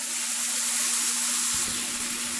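Asafoetida (hing) frying in a pan with ginger and garlic for vada pav, a steady close hiss with a low rumble of bubbling that picks up halfway through; no talking.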